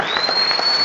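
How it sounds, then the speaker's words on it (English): Football crowd at an Aldershot Town versus York City match applauding Josh Stokes as he is substituted, a brief wash of steady clapping from a distant crowd with a faint whistle tone over it. "several people in the ground rise to their feet for young Josh Stokes, who's coming off and draws applause from inside and outside the media box"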